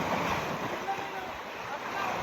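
Sea waves at a free public beach wash in as a broad, steady roar, close and continuous, mixed with wind buffeting the microphone.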